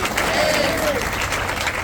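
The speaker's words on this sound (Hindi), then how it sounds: "तालियां बजा दो।" An audience at a Shani Dham religious gathering claps in steady, dense applause that fills the whole stretch, with some crowd voices mixed in.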